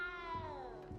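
A small cat in Hogwarts Legacy gives a single clear, falling meow, close and alone for about a second.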